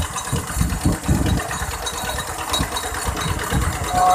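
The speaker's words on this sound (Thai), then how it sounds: "เอาไว้สูบเข้านานะครับ เครื่องเล็กนะครับ" A small engine water pump drives water into a rice field with a steady, close-up mid-pitched chugging that carries throughout without pause.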